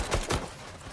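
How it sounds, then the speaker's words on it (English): Two quick, sharp gunshots ring out in the Love and Deepspace video game, close and punchy, followed by a fading tail with no talking. "Don't these gunshots sound good?"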